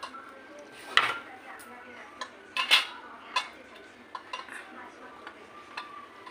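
Two plates set down over bowls of curd beneath a table, producing a few clear ceramic clinks and knocks, then softer scattered taps in a quiet room.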